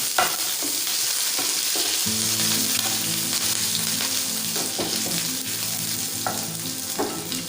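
Green chili and garlic fry in a pan with a loud, steady sizzle, while occasional stirring scrapes come through and a low tonal hum runs underneath.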